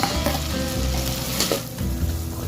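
Ripe, sweet chili and tomato hit a hot frying pan and sizzle steadily, with low stirring scrapes underneath and no talking.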